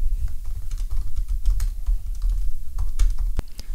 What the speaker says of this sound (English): So I will type.